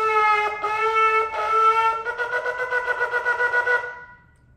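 A ram's-horn shofar blows the shvarim trua: three short, separate blasts, then a rapid run of quick staccato pulses. The horn is loud and near, with a brassy, reedy tone, and no voices are heard.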